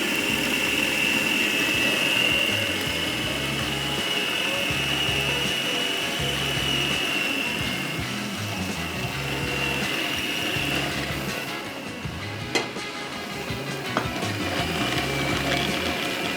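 Electric meat grinder mincing qeema for seekh kabab in a kitchen, a steady loud motor whine with a low pulsing churn under it, running continuously with a couple of brief knocks near the end.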